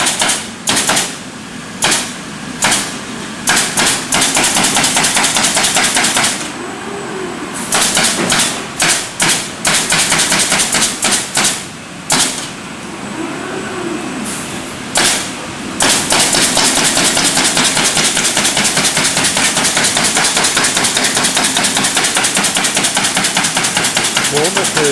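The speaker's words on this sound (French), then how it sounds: "la machine va découper les panneaux" Woodworking machine cutting wooden structural panels in a timber-frame workshop, a dense run of loud, rapid mechanical knocks and rattles over a steady machine roar, pausing briefly and then running on continuously.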